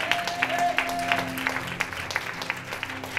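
Church congregation clapping together in a steady burst of applause, many hands close and continuous, with a sustained tone and scattered voices underneath.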